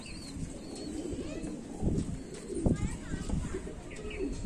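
Pigeons coo on a rooftop in Jammu, soft rolling calls repeated close by under constant background noise, with someone talking over them.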